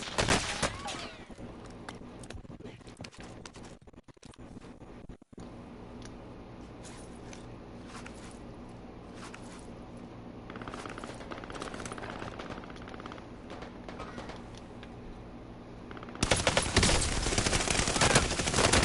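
Automatic gunfire bursts in Warzone on PS4, rapid rattling shots recurring over a dense game soundscape, with a heavy loud burst near the end, and someone talking at times.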